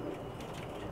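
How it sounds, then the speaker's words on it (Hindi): Teddy pigeons, a golden-type racing breed, coo in a soft steady low murmur, close by and continuous, with no voices over it. "ये टैडी कबूतर है"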